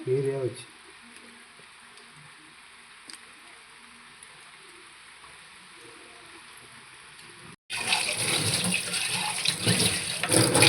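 A tap runs hard and close after a quiet stretch, a steady broadband rush filling the last few seconds; a voice speaks briefly at the start.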